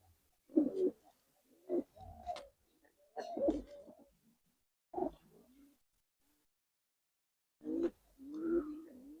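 Giribaz pigeons coo in short, throaty bursts separated by pauses of quiet, close and fairly clear, with a longer gap midway before a final pair of rolling coos.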